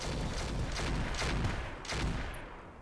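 Rapid weapon fire in the BattleTech mod Roguetech, a dense rumbling barrage of shots and impacts with a few louder bursts over a constant low roar, no talk.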